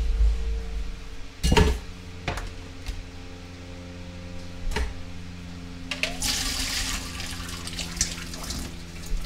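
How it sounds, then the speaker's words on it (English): Water drained from a pot of cooked pasta into a sink, opening with a clank of the pan and then a steady splashing pour. "Okay, we're going to drain the water out of this."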